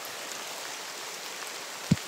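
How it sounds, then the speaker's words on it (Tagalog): Heavy rain pours steadily as a dense, even hiss with no break, and a single low thump lands near the end. "Sobrang lakas ng ulan ngayon."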